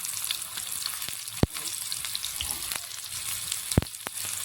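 Finely chopped onions hitting hot oil with cumin in a pan, giving a steady crackling sizzle with a couple of sharp pops and clacks, close and alone with no speech.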